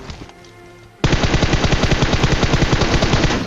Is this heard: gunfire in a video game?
yes